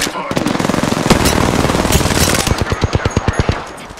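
Rapid machine gun fire rattles in Apex Legends, a dense continuous burst that breaks into distinct evenly spaced shots toward the end, loud and close.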